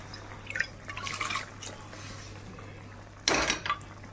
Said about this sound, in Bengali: তো ঘুগনিটা একটু ভালো করে ফুটবে, বুঝতেই পারছো।